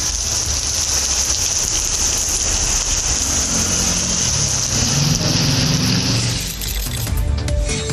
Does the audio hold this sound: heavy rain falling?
yes